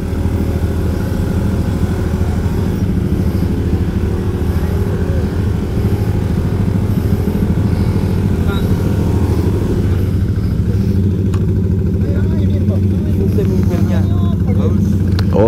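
A motorcycle engine labouring uphill on a steep track at Bromo's Seruni Point, a continuous loud low drone with a steady rhythm throughout, while a rider talks over it.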